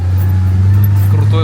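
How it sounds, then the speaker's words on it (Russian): A car strains as it climbs a steep gravel mountain road in Adjaria at about 1200 m, its engine a steady, loud low drone under someone talking. "И вы слышите, как машина работает, прям в натяг идет."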